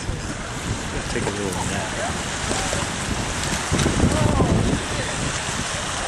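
Wind gusting across the open shore of Lake Erie at a carp fishing spot, a steady broadband rush with a stronger surge midway, while someone speaks briefly under it.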